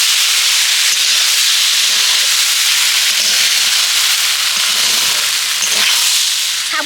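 Sago being stirred and fried in a pan for laddoos, a loud, continuous close-up sizzle and hiss with faint scraping from stirring throughout.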